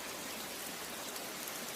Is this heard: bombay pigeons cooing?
no